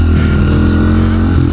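Pit bike engine revving hard while plowing through deep snow in a blizzard, a loud, steady close-up mechanical drone with no pauses.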